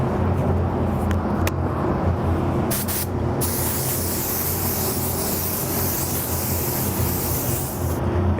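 Spray gun laying a medium wet coat of pearl flake clear over a transparent base on a hot rod sparkle white buoy, a steady loud hiss running unbroken throughout with no talk.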